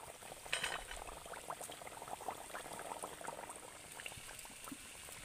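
Nimki pastry strips fry in hot oil, giving a busy, steady bubbling crackle with scattered sharp pops that continues evenly at moderate loudness, without voices.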